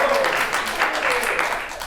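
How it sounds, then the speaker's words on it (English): A studio audience claps in a dense, steady burst of applause that fills the whole moment and fades slightly toward the end. "Should I be offended that the audience is clapping for that?"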